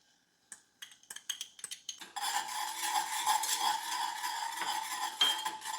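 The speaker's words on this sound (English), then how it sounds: "And now I'm adding 5 cloves of pressed garlic." Pressed garlic goes into melted butter in a 3-quart Cooker King saucepan: a few metallic clinks and stirring taps, then a steady close sizzle and crackle as the garlic hits the hot butter.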